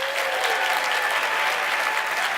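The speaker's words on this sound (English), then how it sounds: "can we just have like an enormous round of applause for our brigade members once again?" A big audience claps loudly and continuously in a broad, even wash of applause, honoring volunteer brigade members at the close of a talk.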